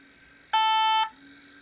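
A single loud electronic beep from a robot, about half a second long, sounds over a faint steady hum.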